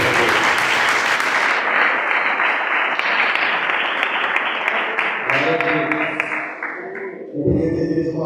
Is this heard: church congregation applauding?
yes